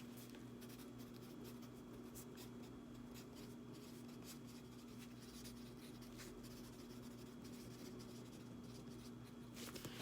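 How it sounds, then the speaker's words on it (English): A pen scratches out handwriting in faint, irregular strokes over a steady low room hum, with no talking. "I'll write something right here."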